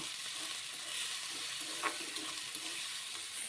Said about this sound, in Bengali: এবার পেঁয়াজের সাথে আদা রসুনটাকেও ভেজে নিচ্ছি।